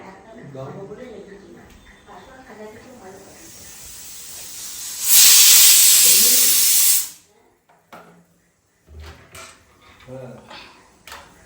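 A pressure cooker whistle lets off a loud, harsh burst of steam hiss lasting about two seconds in a home kitchen, cut off abruptly, with people talking before and after it.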